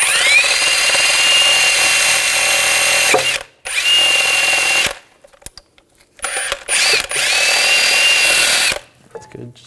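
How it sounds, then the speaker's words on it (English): Power wire brush scouring the pad-seat edge of a rear brake caliper bracket on a 2006-2010 BMW 550i, a loud whining grind running in several bursts separated by short pauses. "I'm just going to clean up just this edge right here where the brake pads are going to sit, just with a wire brush"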